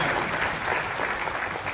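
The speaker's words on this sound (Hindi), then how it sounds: "एक बार जोरदार तालियां" An audience at a diabetes awareness meeting applauds loudly and continuously, a thick, steady roar of many hands clapping with no pauses.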